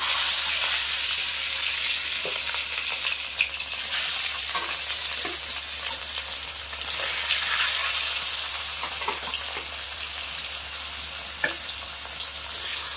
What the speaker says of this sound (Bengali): তো তেল কিন্তু খুব ভালোভাবে গরম হয়ে গেছে। এবার মাছের পিসগুলো দিয়ে দেবো।